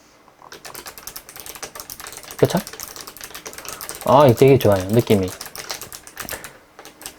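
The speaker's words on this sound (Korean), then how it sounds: "다른 기계식 키보드 이건 다른 기계식 키보드인데요. 이런 소리가 여기서 나요." Rapid clicky keystrokes on a mechanical keyboard, steady close typing throughout with a louder burst of fast key presses in the middle, while someone talks over it.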